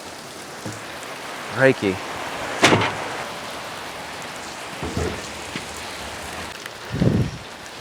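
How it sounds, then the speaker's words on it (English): Steady pouring rain hisses across the whole stretch as broadband wash, with a few short exclamations and speech bursts over it. "at least I'm in the pouring rain"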